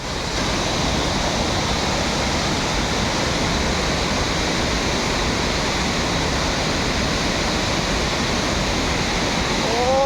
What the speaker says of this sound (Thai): น้ำตกกำลังสวยกำลังดีเลยครับ